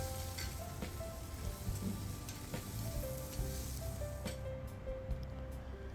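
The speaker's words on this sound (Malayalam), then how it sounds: "അപ്പോഴേക്കും പ്രോൺസ് ഈ രീതിയിൽ ഫ്രൈ ആയി വന്നിട്ടുണ്ട്." Prawns frying in a pan with a dense, steady hiss and crackle like light rain, continuous and moderately quiet, with faint background tones and no talking.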